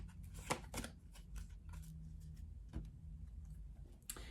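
Tarot cards shuffled by hand in a quiet room, a steady run of soft papery riffles and flicks with a few sharper snaps standing out, close and fairly faint.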